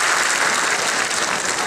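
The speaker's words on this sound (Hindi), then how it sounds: "आप लोगों ने तो ताली बजाकर मेरी बात का स्वागत किया है" An audience at a political rally applauds a speech by Mayawati, with dense, continuous clapping at an even level throughout.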